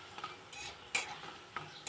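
Lentil fritters (dal bora) frying in oil with nigella seeds and chili, a soft sizzle broken by a few sharp spatula scrapes and clinks against the pan.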